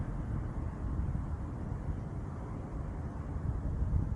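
Steady low rumbling wind buffeting a DJI Avata FPV drone hovering about 7.8 meters off the ground in high wind, a continuous dense roar with slight surges, no voices.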